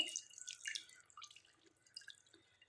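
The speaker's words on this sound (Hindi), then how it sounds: "अब इनके दो तमाम पानी निचोड़ देना है हमने।" Water drips and trickles from soaked bread as it is squeezed out by hand in a kitchen, a close, light patter of irregular drops, fading toward the end.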